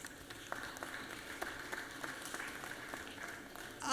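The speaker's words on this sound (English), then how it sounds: "Give them a round of applause there." Scattered applause from people in a Senate meeting chamber: quiet, distant clapping with separate sharp hand claps over a soft room background.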